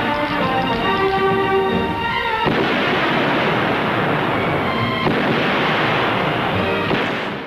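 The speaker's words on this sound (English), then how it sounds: "This is the first half of time fire. 5 shots in 20 seconds." Timed pistol fire on a sheriff's training range, heard as a loud, dense wash of sharp shots and echoing reports, with abrupt onsets near two and a half and five seconds, continuous and close.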